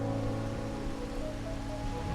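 Rain falling in the video game Wuthering Waves, a dense continuous patter on surfaces that stays even and fairly loud, with faint background music beneath.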